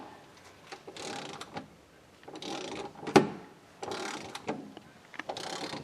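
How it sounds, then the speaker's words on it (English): Ratchet clicking in bursts while turning a rusty bolt on a car's driver-side trailing arm and support bracket, with several short ratcheting runs separated by pauses and one sharp metallic knock, recorded close in a quiet garage. "give me the ratchet"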